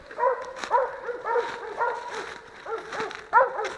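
Coon hunting dogs at a tree on a wildlife management area give repeated high whines and yips mixed with short barks, close and fairly loud, in an uneven stream.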